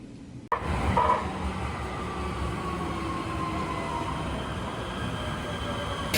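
Steady, loud rumble and rattle of a moving passenger train heading toward Culver City, a continuous low roar with faint squeals and no talking over it.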